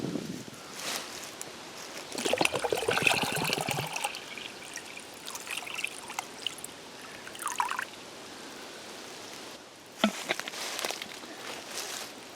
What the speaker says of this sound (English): put a container under it, start my watch and see how long it takes to fill up a black metal mug of water